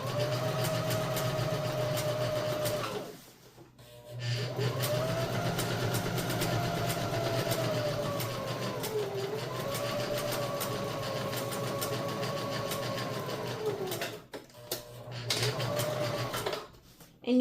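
Sewing machine stitching a tote bag, running in long steady bursts with brief pauses where the foot lifts to pivot, loud and close with talk over it.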